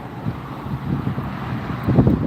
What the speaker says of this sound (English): It is windy here